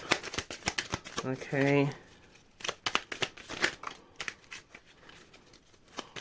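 A deck of tarot-style cards is shuffled by hand in repeated quick riffling bursts, close and crisp, with a brief spoken word partway through.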